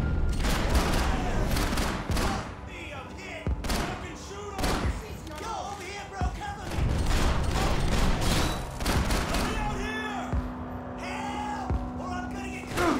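Sniper and other gunfire in the Max Payne 3 video game at a football stadium: dense, loud bursts of shots and thuds keep going across the whole stretch, with a voice talking over part of it.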